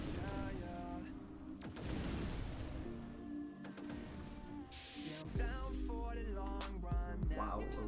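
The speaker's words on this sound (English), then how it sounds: "I'm just gonna fire the sticky trio right here" The sticky trio weapon fires in ShellShock Live, with bursts of artillery-like booms and cartoonish impact effects amid game music and tones, while a voice talks intermittently.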